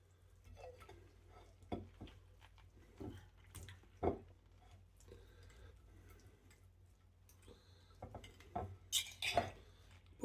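A knife carves a Sunday roast beef brisket on a board, giving scattered faint ticks and clinks of the blade against the plate, with a few louder metallic taps near the end and no talk.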